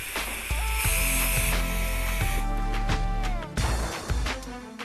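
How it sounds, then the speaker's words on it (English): Liqui-Moly rapid cleaner sprays from an aerosol can onto car brake parts, producing a loud, close, hissing spray lasting several seconds with a short break near the end. "Then, thoroughly clean the brake parts with Liqui-Moly rapid cleaner to leave them free of grease."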